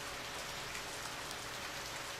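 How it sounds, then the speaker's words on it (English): Steady rain in the video game Radiant Historia, a soft even hiss of falling drops with no talk, constant and unbroken. "It started to rain."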